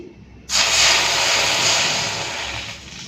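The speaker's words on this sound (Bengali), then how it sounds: "কড়াইতে একটুখানি জল দিয়ে দিচ্ছি" Water poured into a hot wok for boiling leafy greens sets off a sudden, loud, sustained hiss that slowly fades over a few seconds.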